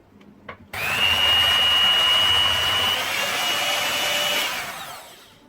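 Ice cream mixture with vanilla essence being blended by an electric mixer, a loud steady whirring motor that starts abruptly after a couple of light taps, holds a constant high whine, then winds down near the end.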